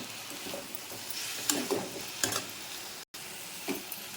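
Curry leaves and coriander sautéing in a pan for chana dal chutney, with a faint steady sizzle and a few soft stirring scrapes and clicks near the middle, then a short break before a final stir.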